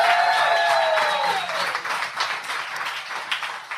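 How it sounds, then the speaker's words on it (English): A live audience applauds a comedy preach-off on stage, steady clapping that opens behind a fading musical chord and then carries on as a dense, even wash of hands for several seconds. "a round of applause for both of us"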